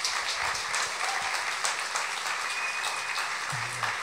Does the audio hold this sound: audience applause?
yes